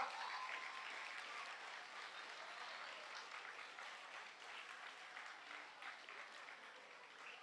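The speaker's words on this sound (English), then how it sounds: "Give them a round of applause." Sustained applause from a crowd gathered at an outdoor Flag Day ceremony on St. Martin, cheering school children and their teachers; steady, dense clapping that fills the whole stretch and tapers slightly toward the end.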